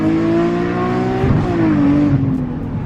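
An E85-tuned Nissan 370Z accelerating on a late-night drive, its engine note rising steadily as it pulls through the gears, loud and close from inside the car.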